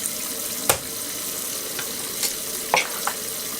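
A kitchen tap runs warm water steadily into a sink, a continuous hissing splash that fills the whole stretch, with a few brief clinks and knocks on top and no talking.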